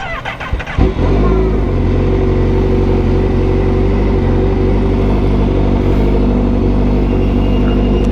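A motorcycle engine cranks with a few rough bursts, catches after about a second, then runs loud and steady close by, holding a deep, constant drone with no voices.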